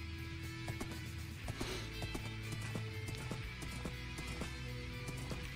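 Horse hooves galloping in the Minecraft video game, a steady run of quick clip-clop beats over background game music, continuous and evenly loud throughout.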